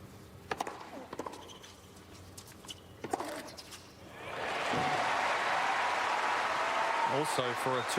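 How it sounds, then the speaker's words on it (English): Crowd at an Australian Open tennis quarterfinal, Federer against Tsonga, breaks into broad, sustained applause that swells and holds for several seconds, following sparse sounds and a few isolated sharp pops, with a bird chirping near the end. "The crowd is just starting to get into this"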